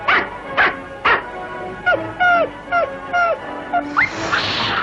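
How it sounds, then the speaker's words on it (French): A dog in a French Tintin cartoon yips, barks and whimpers in a quick series of sharp close calls, some rising into whiny cries, with a short noisy burst at the end. "Milou, qu'est-ce que tu as aboyé"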